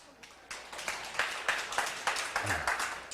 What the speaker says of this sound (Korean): 박수는 신나게 치는 건 나를 위해서가 아니고 여러분을 위해서예요